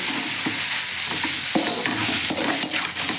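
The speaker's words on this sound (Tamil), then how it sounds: "வெங்காயம் தக்காளி கத்திரிக்காய் பூண்டு எல்லாம் நல்லா வதங்கி வந்த பிறகு" Onion, tomato, brinjal and garlic sautéing in a pan for a spicy fish curry, a steady close sizzle and crackle throughout with scattered stirring clicks and scrapes.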